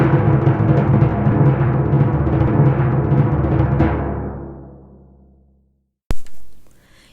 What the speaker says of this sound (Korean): 정답은 북소리예요